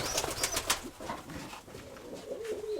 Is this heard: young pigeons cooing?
yes